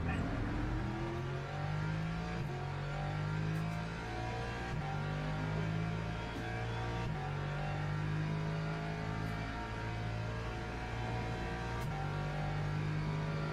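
A Lexus race car engine in a sim racing game revs hard and steadily, climbing through the gears with repeated short upshift breaks, loud and up close, with no voices over it.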